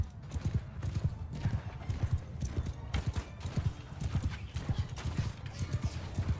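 Cavalry horses gallop in a Bannerlord video game battle, a steady rapid drumming of many hooves close by, mixed with a noisy battlefield din.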